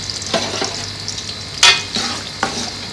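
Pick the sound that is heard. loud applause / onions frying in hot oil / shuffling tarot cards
onions frying in hot oil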